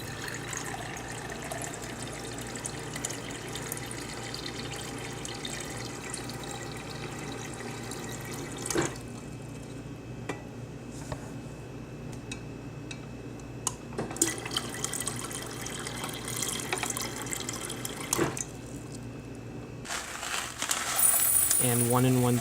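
Tap water running steadily into a pot or measuring cup for cooking rice in a home kitchen, a continuous close splashing flow with occasional drips and clinks, louder toward the end.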